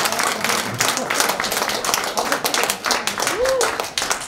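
A lecture audience breaks into steady applause, dense clapping filling the room for several seconds at a fairly even level, with a brief voice rising near the end.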